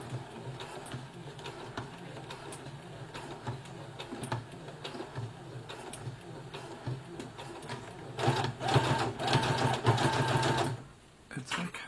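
A Brother FS60X sewing machine stitches a hem on jeans in bursts of rapid needle clatter, louder near the end, with people talking quietly over it.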